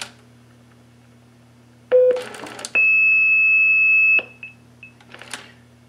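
A blue box sends a short tone burst and a steady 2600 Hz-style tone lasting over a second, with key pulse and multifrequency routing beeps and line noise around them over a low telephone hum, clear and close with no speech.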